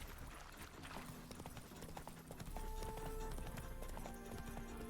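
Horse hooves trotting in The Witcher 3, a fast rhythmic clip-clop close up, steady throughout with game music tones layered underneath.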